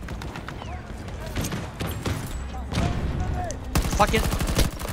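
Rapid 40mm grenade launcher fire from a hovercraft in Battlefield 2042, repeated thumping shots and blasts mixed with gunfire, with players talking and shouting over the top.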